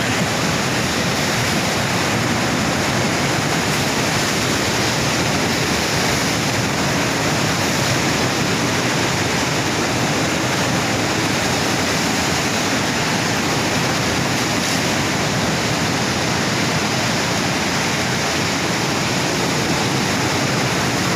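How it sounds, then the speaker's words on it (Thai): Steady ocean surf washing in continuously at Kata Noi beach in Phuket, Thailand, a dense, loud and unbroken roar of breaking waves filling the whole stretch with no voices. "คลื่นสวย มาเรื่อยๆคลื่น"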